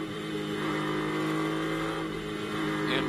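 Onboard with the number 80 Acura GT race car fitted with an MBRP performance exhaust, lapping at the Circuit of the Americas; a loud, steady engine roar drones throughout with no break.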